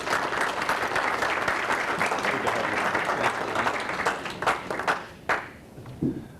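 Audience applause welcoming a seminar speaker at Andover, a dense steady clapping that fills the room for several seconds and then thins to a few scattered claps.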